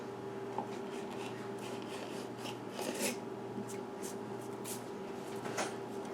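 A knife trims the edges of rolled date and walnut pinwheel dough, making faint scraping and rasping strokes at low volume against a quiet steady background hum.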